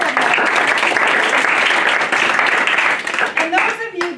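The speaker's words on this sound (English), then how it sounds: "Let's do a big round of applause for all of you." Audience applause at a seminar, a dense, loud wash of many hands clapping that thins out toward the end as a voice starts speaking.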